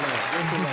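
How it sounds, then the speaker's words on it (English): Audience clapping fills a short stretch at a live introduction of performers, dense and steady with a speaker's voice running over it. "Give me an applause"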